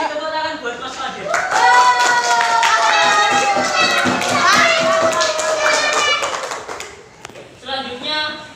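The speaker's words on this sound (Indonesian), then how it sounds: "terima kasih tepuk tangan buat Mas Fadil" Schoolchildren in a classroom clap for a student, quick scattered claps under loud overlapping children's voices and shouts.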